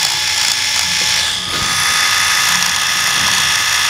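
Havells RS7005 electric shaver with its pop-up trimmer switched on, giving a steady close motor buzz that holds for about four seconds with only a brief dip in the middle and no talk over it.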